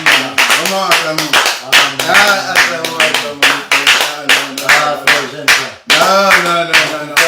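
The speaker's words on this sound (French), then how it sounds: "Acclamons, acclamons, acclamons. Vraiment acclamons." A church congregation in Brussels claps steadily and loudly together in a rhythmic beat, close and dense, with voices singing or calling out over the applause.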